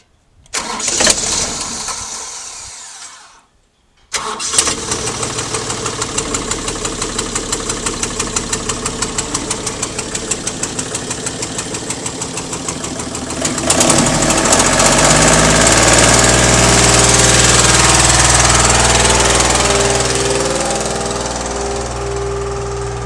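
A hay spreader truck with a belly auger, its engine cranking and catching after a short silence, then settling into a loud, steady diesel run that rises to a heavier, higher-revving drone partway through.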